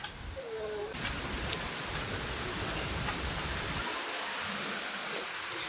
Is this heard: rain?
yes